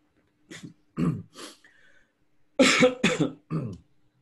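Several coughs and throat-clearing bursts, a few short ones then a louder cluster, close to the microphone with silence between.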